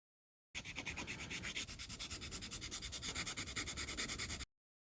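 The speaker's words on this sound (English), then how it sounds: "I sanded as much as I could." Plastic model kit parts, the legs of an old no-grade Gundam kit, being sanded by hand with steady, close back-and-forth rubbing strokes running continuously for about four seconds.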